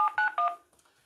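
A phone gives three short, bright electronic tones in quick succession, close and clear. Near-silence follows.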